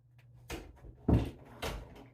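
A house door opened to let a dog named Sarge out on a blustery day, heard as a few separate knocks and thumps of the door and latch, moderately close with quiet room tone between them.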